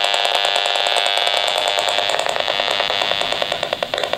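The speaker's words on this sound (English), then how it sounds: "what you're hearing is the radiation field" Radiation meter sounding beside a computer, a dense continuous electronic buzz and hiss with rapid rhythmic clicking pulses, loud and close, with no voices.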